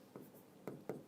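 Pen or marker strokes writing a letter arrangement on a board during a reasoning lesson, three short soft scratches spaced apart in a quiet room.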